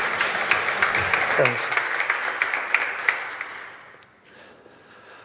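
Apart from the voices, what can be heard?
audience applause for speaker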